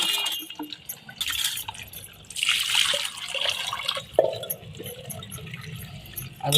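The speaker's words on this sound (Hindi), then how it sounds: "ऐसे हम 2-3 पानी से आलू को अच्छी तरह से धुल लेंगे।" Raw potatoes are rinsed by hand in a bowl of water for sabudana vada, giving close splashing, sloshing and dripping with a few light glassy clinks in uneven bursts.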